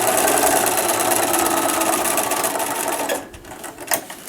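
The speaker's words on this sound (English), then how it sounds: "put it underneath the foot, and start sewing" A sewing machine runs steadily as it stitches a fabric seam for a colorwheel pincushion, a loud continuous whir for about three seconds that then stops, leaving a few faint handling clicks.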